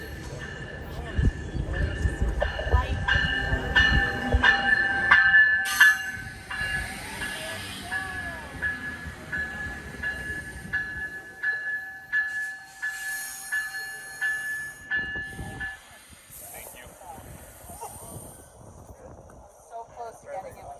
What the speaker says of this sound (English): before the train rolls in